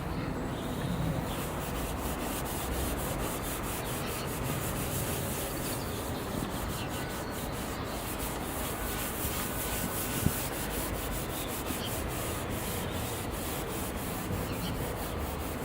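Toothpaste rubbed by hand into a foggy, cloudy plastic headlight lens on a Vauxhall Astra, a continuous close scrubbing rasp that holds steady throughout with no talking.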